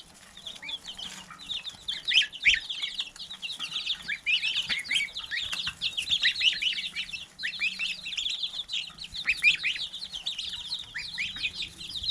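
Young barnyard-mix geese and a mallard-like duckling keep up constant high, close peeping and chirping, a busy overlapping chatter of chicks with no speech.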